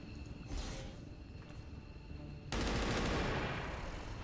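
Rapid automatic gunfire in the strategy game XCOM 2 Long War, a sustained loud burst that starts abruptly after a quieter stretch of faint ambient noise and continues steadily to the end.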